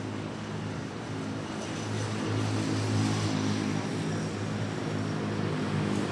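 An airliner takes off from runway 06 at Manila Airport, its engines building into a broad, steady roar that swells louder midway and holds, heard from a distance with no voices.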